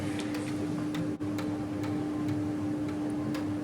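A torque wrench tightens the front brake bolts on a Honda NSR250 MC16 motorcycle under restoration, giving a run of small, regular ticks over a steady background hum, close and fairly quiet.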